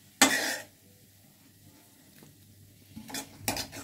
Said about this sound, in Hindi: अब इसमें हम तड़का लगाएंगे।